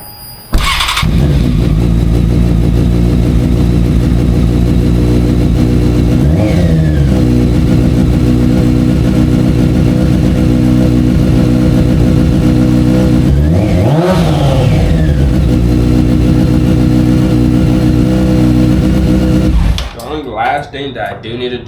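A Honda F4i sport motorcycle engine fires up and holds a loud, steady idle with a couple of quick revs that rise and fall, running close for about nineteen seconds before dropping away as a voice speaks.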